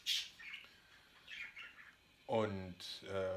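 Small birds chirp outdoors, a few quick high tweets near the start and again later, faint and set against a louder tonal sound that enters partway through.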